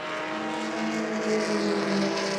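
Two BMW race cars roar past on a circuit at a club race meeting, with a loud, steady engine drone and rising pitch that carries through the whole stretch and no talk over it.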